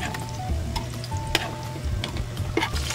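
Cooking oil sizzles and crackles steadily in a pan while making pakbet, a Filipino vegetable stew, with occasional sharp pops and clinks of stirring over a constant frying hiss.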